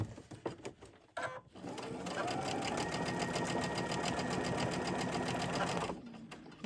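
Domestic sewing machine stitches through a quilt in one steady, fast, continuous run of several seconds. The motor hum and rapid needle rhythm sit close and fairly loud, preceded by a few short handling knocks and followed by a brief stop.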